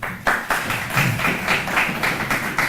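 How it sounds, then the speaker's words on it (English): Audience applause at a university entrepreneurship summit keynote: steady, fairly sparse clapping with distinct individual claps in a loose rhythm, moderately close, no voices over it. "Give him a round of applause, guys."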